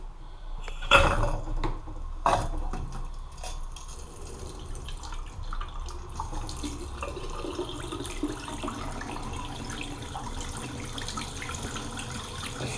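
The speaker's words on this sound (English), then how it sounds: "We'll see if the tap's running okay." A bathroom sink tap runs into a newly fitted vanity basin, giving a steady close splash and trickle after a couple of sharp knocks near the start.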